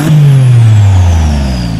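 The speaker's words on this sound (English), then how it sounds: "In the open setting, the maximum output is increased in the upper rev range and the engine sound structure is emitted" Sports car engine revving through a Capristo exhaust set to its open mode, a loud close roar with a deep tone that climbs in a strong rev and then slowly falls away, heard alone.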